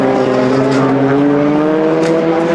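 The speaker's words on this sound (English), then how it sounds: "We've got cars howling past us in the commentary box." Rallycross race cars at a World RX qualifying round in Latvia howl loudly past a trackside commentary box, a continuous high-revving engine roar with shifting pitch as they pass close by.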